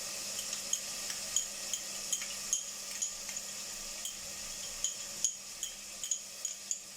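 Beef sautéing in a pan with garlic ginger paste, a steady soft sizzle broken by repeated light clinks and scrapes of a spoon stirring, close and moderately quiet.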